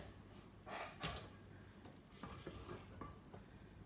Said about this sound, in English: I'm just going to scrape the bowl down so that any whipping it up meringue mixture is incorporated into the butter mixture